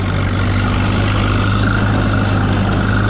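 A classic four-cylinder tractor engine pulling a plow in a field: a loud, steady, low droning chug that holds constant throughout, close by, with no talking.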